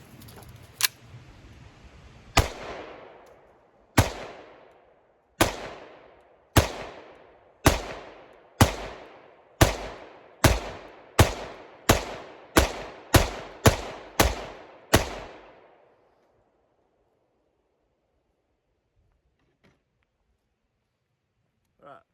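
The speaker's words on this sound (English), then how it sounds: "That's actually for fast shooting at about 10, 12 yards." Rapid pistol fire from a S&W M&P 5.7 during fast shooting at about 10 to 12 yards: roughly fifteen sharp, loud reports in a quick, slightly irregular string that speeds up toward the end, then silence.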